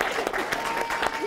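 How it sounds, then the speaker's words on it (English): Wedding guests clap for the bride at a ceremony, a short round of lively applause with talk and murmuring from the room over the top. "A round of applause."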